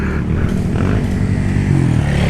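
Off-road motorcycle engine revving hard on a trail ride at a trabas event, a loud, continuous close-up roar with rough, rising throttle pulses throughout.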